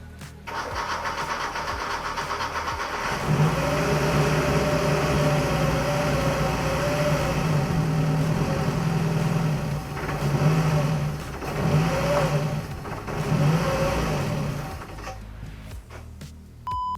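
An old car engine, recently revived and lacking power, revs and strains as it tries to move, a loud, wavering mechanical growl rising and falling in surges before dropping off at the end.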